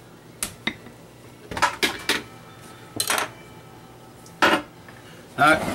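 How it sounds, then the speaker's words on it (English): Spoon scraping and clinking against a bowl while hummus is stirred together, a series of short sharp metallic knocks in uneven rhythm, close and fairly quiet, with no voices. "Mix it all together, taste it one more time, make sure we got everything adjusted."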